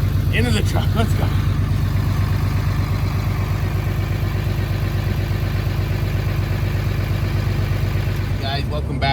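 A truck engine runs steadily and loud close by, its low rumble constant for most of the stretch, with voices speaking over it before the motor cuts off near the end.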